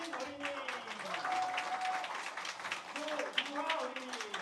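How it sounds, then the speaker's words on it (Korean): Quiet clapping from a church congregation during a Sunday service continues throughout while a voice talks over it. "자, 우리 큰 박수 쳐주세요."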